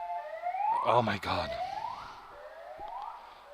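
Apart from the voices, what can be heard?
sirens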